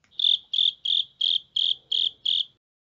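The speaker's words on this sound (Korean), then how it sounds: "오늘도 영어 청취 도우미 귀뚜라미가 함께합니다." Cricket sound effect: seven evenly spaced, bright chirps in a steady rhythm, close and clear, each pulse sharp and high, ending in silence.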